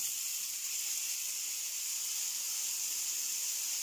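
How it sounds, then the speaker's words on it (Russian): Thawed, squeezed eggplant fries in a pan with a steady, even sizzle, a continuous hiss at moderate level and no speech. "немножко на сковородочке нужно поджарить синенькие"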